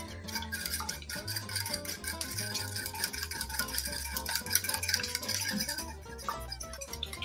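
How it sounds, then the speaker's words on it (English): A fork whisks a cracked egg in a bowl, making rapid, steady scraping strokes against the bowl throughout, with music playing underneath. "And I'm just gonna whisk it together."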